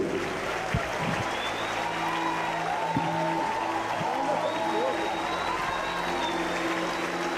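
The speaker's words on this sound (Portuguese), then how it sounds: "vamos receber com alegria, aplaudindo o Senhor Jesus pela vida do pastor e deputado federal por São Paulo, Marco Feliciano." A church congregation applauding at an evangelical gathering, with broad, continuous clapping heard at a moderate distance alongside sustained organ or keyboard tones and a faint murmur of voices.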